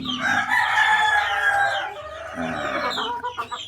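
A rooster, a cross between Bulik and Boston chicken breeds, crows loudly and close by in one drawn-out call, followed by softer clucking.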